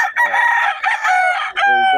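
A rooster at a poultry sale in Bocaue crows close and loud in one full, strained call of a couple of seconds, with no talking over it.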